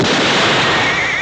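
A loud gunshot blasts at close range in a Western drama scene, a single dense roaring burst filling the whole moment with no talk over it.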